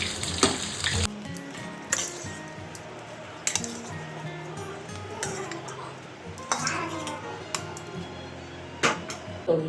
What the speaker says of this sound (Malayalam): ബ്രൗൺ നിറമാവുന്നത് വരെ വറുക്കുക.